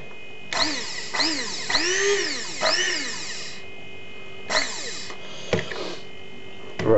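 A Krups F203 electric coffee and spice grinder whirs in several short bursts, its motor whine rising and falling in pitch with each spin-up and wind-down, separated by brief pauses.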